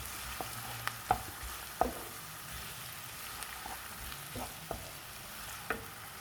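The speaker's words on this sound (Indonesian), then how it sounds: "Kita tumis sampai matang ya" Onions sautéing in a pan for a minced-meat pastel filling give a soft, steady sizzle, with a few sharp clicks and taps from stirring scattered through.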